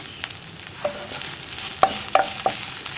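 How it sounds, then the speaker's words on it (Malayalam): A spoon stirs drumstick flowers frying in a pan for an egg thoren, soft sizzling under a few sharp scraping clicks against the pan, close and moderately loud, no talking. "നമുക്കിനി ഒന്ന് തുറന്നതിന് ശേഷം ഇളക്കി കൊടുക്കാം"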